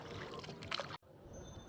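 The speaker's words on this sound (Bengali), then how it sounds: "নৌকার বৈঠাটা পানিতে বাড়ি খাচ্ছে আর আওয়াজ হচ্ছে" An oar slaps and splashes in river water beside a rowing boat on a leisure trip, a brief watery stroke with trickling, followed by a sudden cut and quieter lapping.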